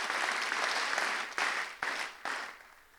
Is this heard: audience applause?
yes